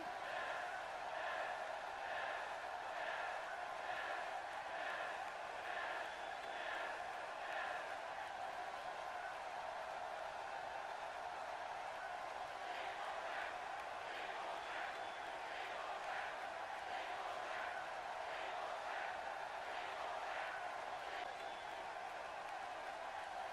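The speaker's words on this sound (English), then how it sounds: "Very vocal crowd here tonight." A vocal arena crowd at a video game wrestling event, road to the Royal Rumble, keeps up a steady roar throughout, with rhythmic chanting pulses rising and falling over the continuous din.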